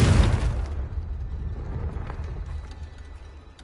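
A blasting spell explosion from the Hogwarts Legacy video game: a loud burst right at the start that decays into a lingering low rumble, with faint scattered debris clatter afterward.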